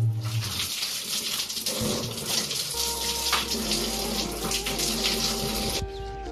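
A water tap runs steadily into a sink while someone washes their face just after waking. A close, continuous splash and gush carries a faint humming tone underneath, then eases off at the very end.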